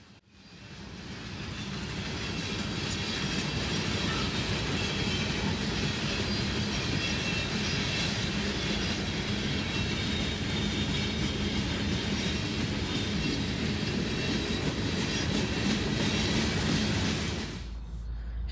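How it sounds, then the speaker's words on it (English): A train rolls by steadily for a long stretch, a continuous rumbling clatter of wheels on track, loud and close, fading out abruptly at the end. "I'm probably gonna go around this train"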